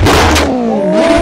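A Mitsubishi Lancer Evo 8 track build revs hard up close, its engine note rising, dipping briefly and climbing again in a loud, raspy snarl.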